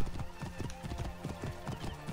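Horse hooves clip-clop in a steady galloping rhythm in Assassin's Creed Origins, loud and continuous over game music, with a faint voice in the background.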